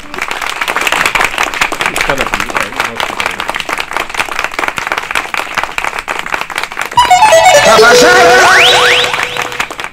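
A crowd applauds steadily, the clapping swelling louder toward the end as music joins in.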